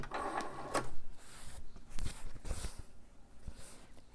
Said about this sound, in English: and backstitch again.